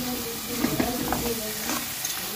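Masala with sliced ginger and green chilies fries in a pan for a turnip and peas dish, giving off a close, steady sizzle with light stirring.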